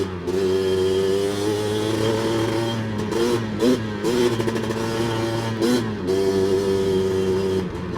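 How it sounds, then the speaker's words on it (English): Light Honda 250R two-stroke engine with a newly repacked pipe, revved up close and loud in repeated sharp bursts, the crackling buzz climbing and dropping back to a rattly idle between blips. "It's just so light, such a quick revving 2-stroke engine."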